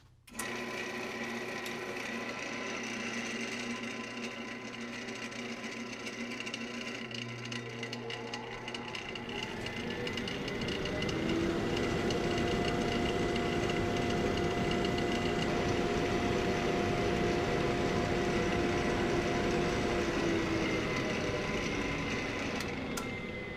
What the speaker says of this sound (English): So we sanded our blank all the way through to 600